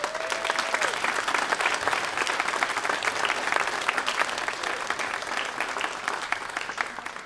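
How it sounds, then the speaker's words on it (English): A school audience applauds at the ribbon-cutting ceremony for Westfield River Elementary School. The clapping is dense and steady, holding at a fairly loud level for about seven seconds. "I think that in itself deserves a round of applause"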